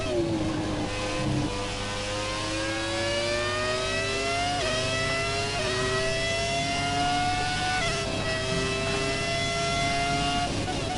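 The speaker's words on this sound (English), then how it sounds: "for a V8, this thing sounds so cool" A high-pitched V8 race car engine in the racing game F1 2017 revs continuously, pitch climbing and dropping with each gear change, loud and close throughout.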